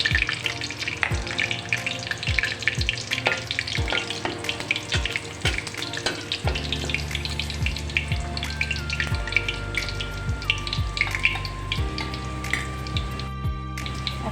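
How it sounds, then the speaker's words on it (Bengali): Cumin seeds and a torn bay leaf crackle and fry in hot oil, a dense, close sizzle with sharp popping bursts throughout, no voices. "তেলটা গরম হয়ে এসেছে, এখন আমি জিরে এবং একটা তেজপাতা ছিঁড়ে ফোড়ন দিয়ে দেব।"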